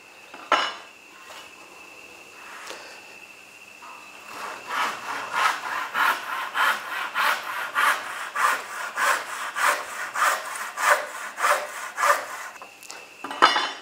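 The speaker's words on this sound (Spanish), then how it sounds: "vamos a, a, a cortar a formar las patas del codal, que son eh, dos piezas de un metro cada una" A hand saw cutting wooden pieces for the legs of an A-frame level, a few tentative strokes followed by a steady rhythmic series of rasping back-and-forth strokes, close and alone with no voices.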